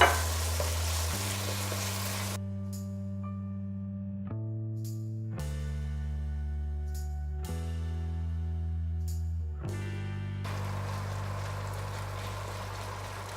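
Chicken fries in a pan for paella, a soft sizzling hiss mostly at the start and end, largely covered by sustained background music.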